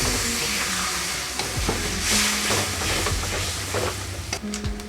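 Rinse water from a container poured into a hot sizzling pan of cashew, melon seed and beaten yogurt mixture, a loud hissing sizzle with spoon scrapes and clinks throughout, close and continuous with no talk.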